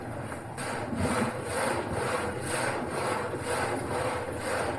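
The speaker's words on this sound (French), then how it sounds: "j'ai mis en route la turbine qui elle-même a mis en route notre scie alternative qu'on appelle un châssis dans le Haut-Jura" Water-turbine-driven reciprocating frame saw cutting wood in an old Haut-Jura sawmill, a steady rasping roar with a regular back-and-forth pulse repeating about once per second, continuous and fairly loud, with no voices.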